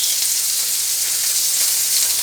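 A beef burger patty for a Mediterranean olive burger sizzles steadily in a pan, a close, loud, continuous frying hiss with no talk over it.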